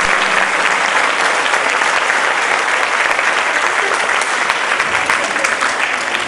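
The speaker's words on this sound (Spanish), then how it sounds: "quiero que se den un fuerte aplauso por este público" Loud, sustained applause from an audience in an auditorium at a children's dance festival in Samacá, dense steady clapping filling the whole stretch without a break.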